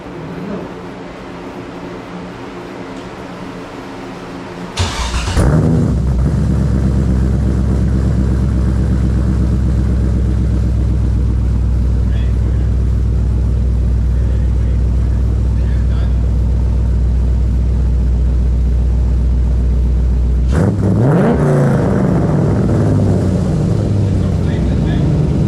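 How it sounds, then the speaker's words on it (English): An LS6 V8 swapped into a BMW E46 cranks and fires on its first startup with the exhaust installed, then settles into a loud, steady, deep idle that runs for about fifteen seconds before cutting off, with voices faint beneath. "We have exhaust in, and we're gonna do a first startup."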